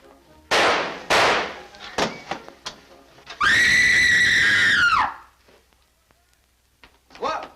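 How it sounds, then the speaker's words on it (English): A woman's loud, sustained scream of about a second and a half, high and piercing, rings out in a theater scene from a 1945 film noir, preceded by sharp bangs and followed by quieter movement. "Who screamed?"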